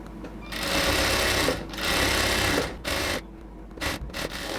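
A sewing machine stitches a cotton dress in several close, loud bursts of steady whirring, separated by short pauses, with no talking.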